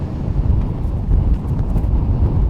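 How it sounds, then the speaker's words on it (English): A strong desert wind gusts hard, producing a loud, continuous low roar and buffeting rumble that fills the entire moment without any voices. "Holy shit, it's windy"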